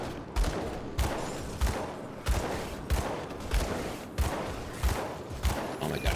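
Repeated gunshots fire in the Grim Dawn action role-playing game, sharp reports arriving in a loose, fairly regular rhythm about every half second to second, each with a short decaying tail, loud and close over a low continuous background.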